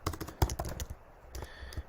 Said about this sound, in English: and I might just type in